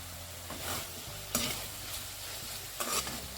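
Potatoes, fenugreek leaves and peas being stirred with spices in a pan, a quiet scraping and soft sizzle with a few sharper spoon strokes against the metal.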